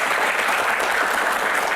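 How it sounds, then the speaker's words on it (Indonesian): An audience claps steadily in dense, continuous applause that fills the whole short moment, fairly loud and close, with no talk over it. "Tepuk tangan dong semangatnya."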